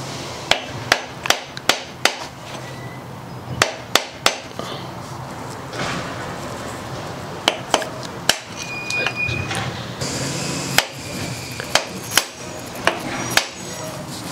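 A screwdriver pries at a Fox 32 fork on a 1996 Gary Fisher mountain bike, giving a series of sharp, irregular metallic taps and clicks close up against quiet background noise.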